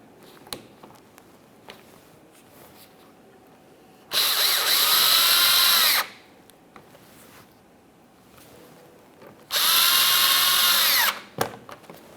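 A power drill snugs fasteners on a GMC Acadia bumper cover, giving two loud, steady whirring bursts of about two seconds each, separated by quieter handling noises.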